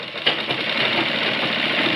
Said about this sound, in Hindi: अब इसको हम ऐसे ही टर्न कर इसकी तुरपाई सिलाई हम कर देंगे